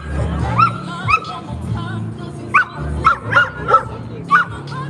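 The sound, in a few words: dog barking excitedly at another dog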